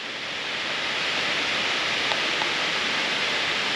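Steady rushing roar of Jiuliao waterfall, about 30 metres high, beside the Xinjiuliao trail in Dongshan, Yilan, a continuous broadband wash heard alone at moderate level with no voices.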